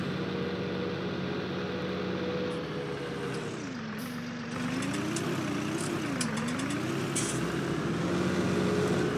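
A steady tractor engine in Farming Simulator 19 drones throughout, its pitch dipping and rising slightly as the load shifts, with faint clicks over the continuous mechanical hum.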